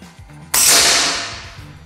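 A single sharp air rifle shot firing an HN slug pellet of 16 grain, a sudden loud crack that decays smoothly over about a second, with no talking.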